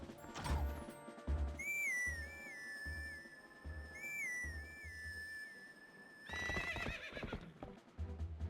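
A horse in Zelda: Twilight Princess HD, neighing in loud whinnies near the start and end, with rhythmic clip-clop hooves and a whistled melody in between, no talk.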